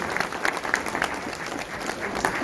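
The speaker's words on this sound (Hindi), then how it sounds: "देखो भाई इनके लिए भी ताली बजाओ यार" A crowd claps for an honoured railway worker at a gathering addressed by India's railway minister, a short, dense burst of applause at an even, fairly loud level.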